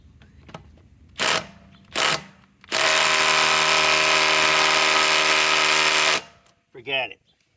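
A Harbor Freight Hercules 2200 in-lb compact impact driver gives two short bursts and then one long, loud, steady hammering rattle lasting about three seconds, close by, with brief mechanical noises before and after.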